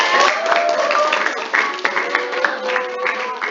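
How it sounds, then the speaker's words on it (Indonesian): Online meeting participants clap briefly in applause, a thin, bandlimited patter of hands heard alongside faint voices. "Oke, kasih tepuk tangan ya."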